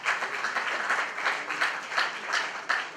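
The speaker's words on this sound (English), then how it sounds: "We can give a round of applause" An audience at a presentation night in South Korea gives a round of applause, steady dense clapping from many hands filling the room for the full stretch with no talk over it.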